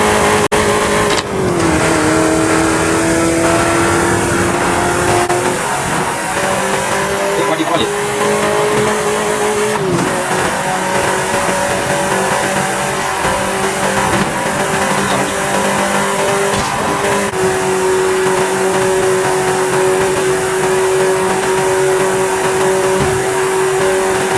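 In the racing game Forza Horizon 5, a car engine revs up continuously and loud, with several gear shifts marked by brief dips and climbs in pitch, plus occasional tire squeal, nearly the whole time.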